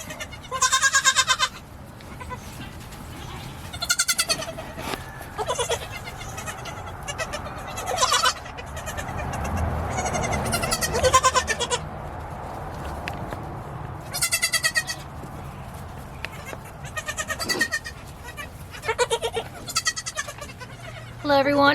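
Baby goats at a dairy goat farm in Yuma, Arizona bleat repeatedly in short, high calls from the background, scattered across the whole stretch over a soft ambient hiss.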